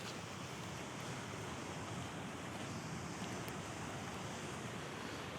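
Rushing river rapids in Glencoe during Storm Gerrit, a steady, loud broadband roar of churning water with constant wind noise across the microphone, unbroken throughout.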